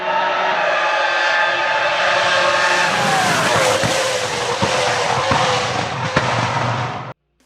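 A modern Formula One race car engine roars loudly and continuously, its pitch sliding downward, with sharp pops and cracks near the end before it cuts out abruptly.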